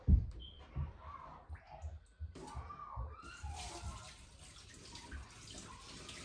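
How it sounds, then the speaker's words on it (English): Water and seasoning poured out of a turkey roasting pan into a sink, a sloshing wet rush that swells after a few seconds and keeps running steadily, with scattered clicks and clatter near the start. "I'm going to dump this water out and all the seasoning out"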